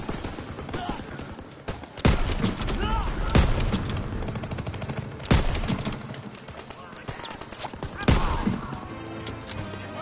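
Gunfire in the World War II shooter Call of Duty WW2 during a bunker-clearing fight: sharp bursts and rattling volleys crack out every couple of seconds over a busy battle din, with faint voices underneath.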